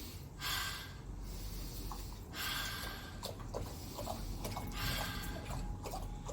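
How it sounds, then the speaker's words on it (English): Deep yoga-style chest breathing, slow inhales and exhales. Three broad, airy breaths sound close and fairly soft, with quiet pauses between them. "take some breaths with me. Inhale, exhale, and put your hand on your chest and breathe right into your chest"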